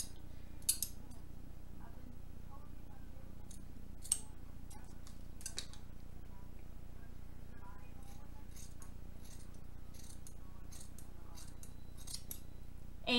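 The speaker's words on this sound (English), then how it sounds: "so where are my scissors?" Scissors trim fabric during a sewing project in a string of sharp, close snips and clicks, irregularly spaced over a quiet room hum.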